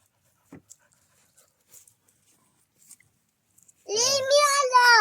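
Puppies making faint scattered snuffles and soft panting breaths in a home garden, then a loud, drawn-out high whining whimper up close at the end.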